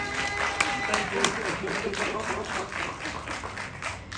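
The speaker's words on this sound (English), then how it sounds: "Louder, your best clap." A town hall audience clapping on request, a dense, steady patter of many hands with a few sharper claps standing out, with some voices mixed in.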